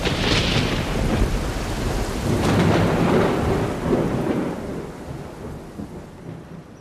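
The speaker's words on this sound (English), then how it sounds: "a fierce rainstorm, extremely unusual for that dry season, suddenly descended" A fierce rainstorm with thunder pours down in a dry region, a dense, loud roar of heavy rain with deep rumbling thunder swelling early and mid-way, then slowly easing, with no voices.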